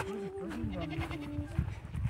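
Sheep bleat in a grazing herd, a wavering, drawn-out cry up close followed by shorter calls, with a low background rumble beneath.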